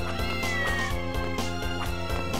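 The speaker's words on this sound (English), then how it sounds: "that cat's meowing is starting to drive me nuts" A cat meows in Castlevania: Order of Ecclesia. The cries are repeated and drawn out, loud and close, over steady game music with a regular beat.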